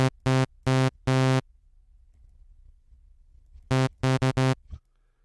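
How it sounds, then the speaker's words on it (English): A synthesizer saw-wave patch plays short, bright, buzzy notes: three bursts, a quiet gap, then four more, each a harmonically rich tone standing alone with no talking. "So it's a saw wave."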